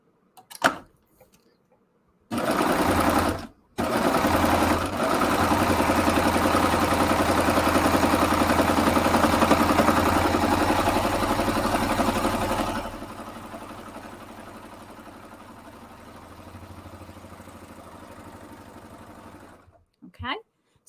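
A serger sewing machine runs continuously while stitching a thick finishing edge on a blanket, a loud steady buzzing whir that drops to a quieter hum partway through, with brief stops and clicks at the start and end.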